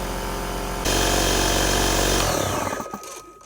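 A loud, steady air compressor drones for a Ridgid pneumatic brad nailer during chicken coop woodwork, then cuts off and fades into quieter room sound near the end.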